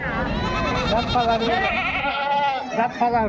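Goats bleat close by in wavering, quivering cries at a livestock market in Gudur, mixed with people talking.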